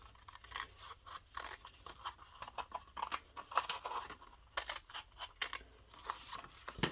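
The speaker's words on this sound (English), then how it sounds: "So cut along the horizontal line and then cut along the side." Scissors snipping through a card tab on a pop-up box card kit, a run of quick crisp cuts in uneven bursts, close and fairly quiet with no voices.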